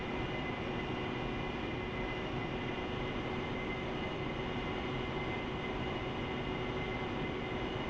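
Steady, loud turbine roar of an AV-8B Harrier jet engine in the DCS flight simulator during a landing approach, a continuous droning whine with a faint high tone, unbroken throughout.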